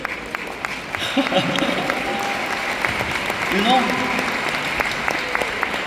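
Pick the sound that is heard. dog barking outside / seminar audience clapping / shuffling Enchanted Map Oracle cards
seminar audience clapping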